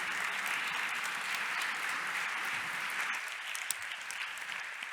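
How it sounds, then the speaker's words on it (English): Warm applause from a conference audience fills the room, a steady wash of many hands clapping that thins slightly toward the end. "Warm applause"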